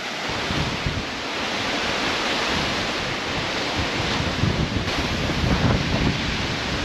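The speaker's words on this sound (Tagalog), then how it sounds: "Sobrang lakas ng hangin, di tayo makalabas." Storm wind tears through a campsite near Mayon in Tabaco, Albay, amid heavy rain, a continuous roaring rush with stronger gusts buffeting the microphone up close and no break in the noise.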